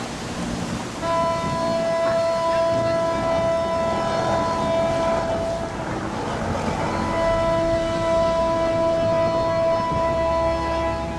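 A pilot boat sounds its horn among ships in the Mediterranean. Two long, steady tonal blasts carry across a noisy open-air background with a brief gap between them.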